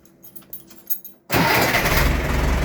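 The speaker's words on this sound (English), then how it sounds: "Getting the 2355 warmed up." A John Deere 2355 tractor engine cranks, then fires into a loud, steady idle close by. A few faint clicks and rattles come before it catches.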